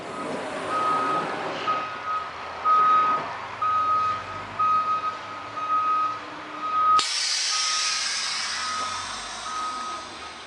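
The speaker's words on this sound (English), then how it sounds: "when you turn the air back on, it actually opens the door instead of closing it" A 2015 Blue Bird Vision school bus has a steady reversing beep pulsing over engine rumble, then its air system releases a sudden loud hiss of air as the door opens.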